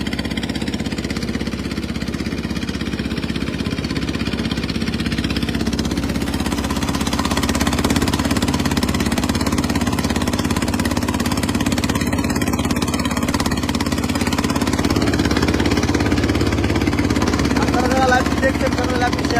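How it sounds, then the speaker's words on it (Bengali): A trawler boat's engine drones loud and steady throughout, with a rough mechanical chug and voices faintly underneath. "সে ট্রলার নিজে চালিয়ে কর্মীদেরকে নিয়ে যাচ্ছে।"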